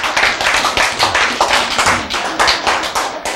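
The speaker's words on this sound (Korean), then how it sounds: "왜 아무도 박수를 안 칠까?" An audience at a lecture on healing autoimmune disease breaks into a burst of rhythmic hand clapping, loud, dense and close, continuing evenly for a few seconds.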